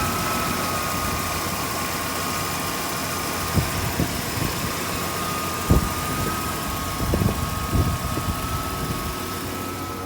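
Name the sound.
1994 Ford Bronco engine starting and idling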